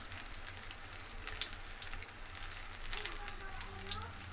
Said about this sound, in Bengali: এভাবে লাল লাল করে আমি ভেজে নেব।